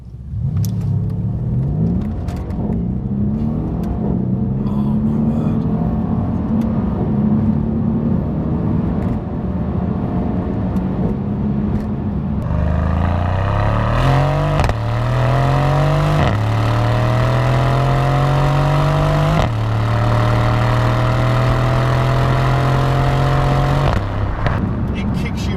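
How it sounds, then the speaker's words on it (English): A Mercedes C63S AMG coupe with a 4-litre bi-turbo V8 pulls hard through the gears, its engine note rising in repeated sweeps with brief dips at each shift, loud and close from inside the car, with voices over it. "this is a 4-litre V8 dual turbo, bi-turbo"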